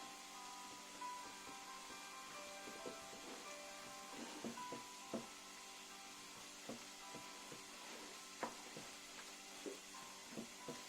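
Spoon scraping and stirring hot Tunisian tajine meat and sauce in a pan, quiet irregular clinks and scrapes over a faint steady sizzle, with no talking.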